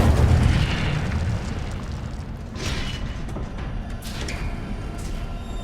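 In the Hogwarts Legacy video game, an Incendio fire spell bursts out with a loud, roaring whoosh of flame that rumbles on and slowly settles, with softer crackles following.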